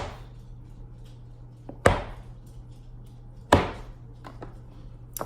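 A knife cuts through a block of shea butter glycerin soap on a hard surface, making two sharp, loud chops about two seconds apart and then a few lighter taps, with a low hum underneath.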